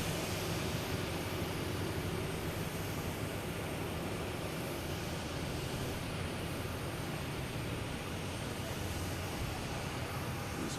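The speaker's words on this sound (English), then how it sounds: "we have a JetBlue coming in from Aruba" A JetBlue Airbus A321 arriving from Aruba comes in to land at Boston Logan Airport, a steady, distant engine roar that stays level throughout.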